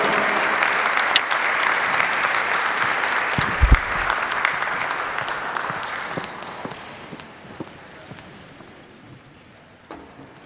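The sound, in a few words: crowd applause for seniors at basketball game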